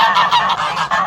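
A waterfowl, likely a swan or duck on a lake, calls out for food with a rapid series of about five loud, nasal honks, close by and with no talking.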